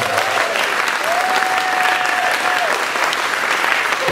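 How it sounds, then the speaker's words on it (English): Audience applause rings out after a jazz vocalist's performance of a standard, steady and dense clapping filling the whole stretch at close range, with no voices over it. "Please give her a round of applause."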